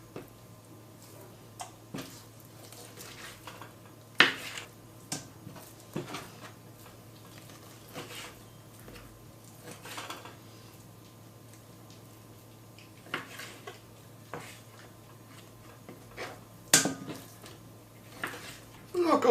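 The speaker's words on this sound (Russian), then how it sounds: "Мясо режем небольшими кусочками." Sparse, faint knife taps and clicks on a cutting board as meat is cut into small pieces for solyanka, irregular soft strikes spread across a quiet kitchen with a low background hum.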